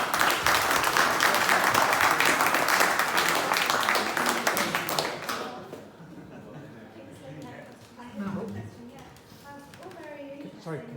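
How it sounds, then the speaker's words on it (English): Audience applause at a Worthing property networking talk, a dense, loud wash of many hands for about five seconds that breaks off abruptly, followed by quieter room murmur and scattered voices talking. "should we give him a round of applause?"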